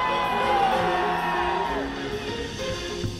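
A large crowd at a Destiny presentation at Paris Games Week 2014 whoops and cheers loudly and without a break, then fades a little toward the end.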